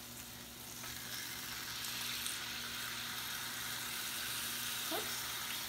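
Hunt's fire roasted tomatoes with garlic simmer in a pan for chicken cacciatore, giving a faint, steady bubbling sizzle that hisses quietly and evenly throughout.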